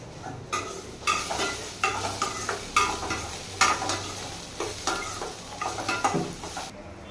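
Chopped shallots and onion frying in a pan for a soup, a soft sizzle broken by repeated scraping stirs of a spatula, close and clear with no voices.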